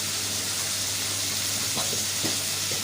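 Tomatoes and chopped coriander fry in a hot pan, a steady dense sizzle with a few faint stirring scrapes near the end, close and without talk.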